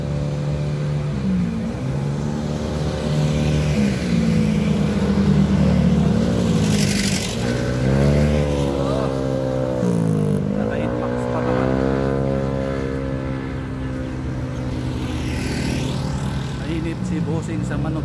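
Motorcycle engine droning steadily along a road in Bulacan, its pitch rising and falling with throttle changes, loud and close throughout, with a rider talking over it.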